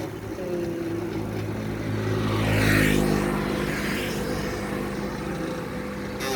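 Highway traffic: a continuous low road rumble swells as one vehicle passes close by at mid-clip, then eases back to a steady drone.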